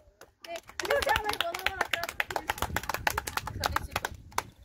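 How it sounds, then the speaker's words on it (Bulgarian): A crowd of teenagers claps hands at a festival in Pomorie, a burst of quick, uneven claps that starts after a short pause, with voices talking and calling out over the applause. "Може ли да пляскате?"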